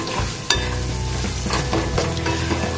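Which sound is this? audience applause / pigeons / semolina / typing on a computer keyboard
semolina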